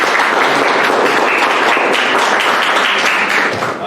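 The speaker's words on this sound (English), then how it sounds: "Let's one last round of applause." Audience applause at the close of an academic talk on intelligence and learning in the age of AI: dense, loud, sustained clapping from a large crowd, steady for the whole stretch before tapering slightly.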